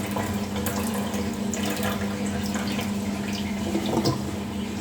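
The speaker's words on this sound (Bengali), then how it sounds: "সবজিগুলো ভালোভাবে ধুয়ে নিচ্ছি।" Freshly cut vegetables are rinsed under a running kitchen tap, a steady rush of water with splashes and small drips throughout, with no voices.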